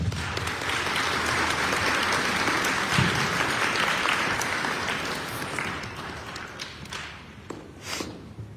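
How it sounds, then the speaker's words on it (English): Applause from a crowd gathered at a high school during an evening peace-walk event in Demopolis, Alabama, steady and full for several seconds before thinning into scattered claps and a few thumps. "Let's give them an applause."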